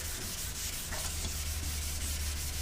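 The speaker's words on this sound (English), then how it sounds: "and then when we're sanding" Sanding a painted panel coated with a black spray guide coat over 320-grit scratches, a steady continuous abrasive rub held close and fairly loud with no pauses.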